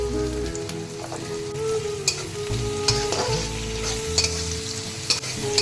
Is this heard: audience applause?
no